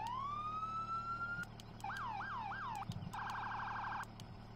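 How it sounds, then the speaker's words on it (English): A video game fire engine siren from Farming Simulator 17 runs through several patterns, a rising wail, then quick whooping yelps, then a rapid warble, with short clicks between each change. "Up next, we'll take a look at the sirens."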